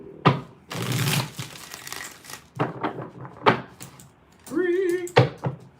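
A tarot deck being shuffled by hand at close range, with several separate bursts of papery riffling and slapping of cards, separated by short pauses.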